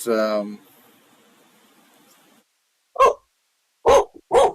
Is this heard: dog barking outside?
yes